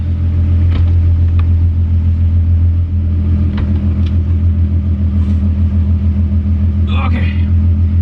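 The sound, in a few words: Volkswagen MK2 with swapped VR6 engine driving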